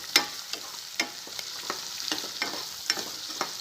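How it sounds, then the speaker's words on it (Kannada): Onions and rava frying and being stirred in a pan for upma, a steady sizzle broken by spoon scrapes at an uneven rhythm, close and moderately loud with no talking. "ಹಸಿ ವಾಸನೆ ಹೋಗುವವರೆಗೂ ಚೆನ್ನಾಗಿ ಹುರಿಯಬೇಕು."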